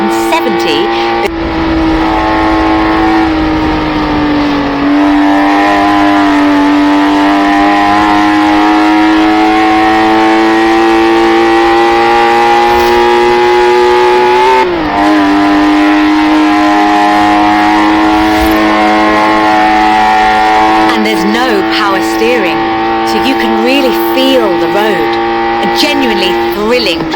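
A sports car in Forza Horizon 4 accelerates hard, its engine a loud, steady high-revving drone with pitch climbing through gear changes. A voice talks over it throughout.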